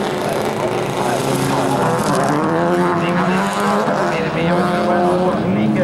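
Rally car engine roaring loud and continuous as it races toward the finish line of a sprint rally, with a commentator talking over the engine noise throughout.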